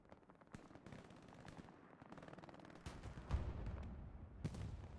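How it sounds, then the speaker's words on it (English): Semi-automatic rifle fire in the World War II shooter Hell Let Loose, a faint, distant scatter of separate shots and short bursts over a low battlefield rumble, with no talking. "Too much semi-auto action going on."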